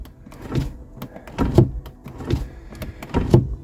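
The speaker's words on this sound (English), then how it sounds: "let's see if the windows work" The electric power window motor of a Lotus Excel whirs in repeated short bursts against a sticking regulator, with about four strained pulses spaced roughly a second apart, close and alone.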